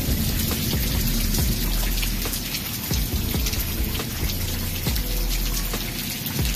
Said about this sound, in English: this is actually the most rain we've received like all year